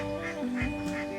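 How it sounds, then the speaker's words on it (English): Indian runner ducks kept in a garden give a short, close quack, with a nasal honking call sliding over a faint tonal background hum. "Some of Sidoni's tenants are these Indian runner ducks."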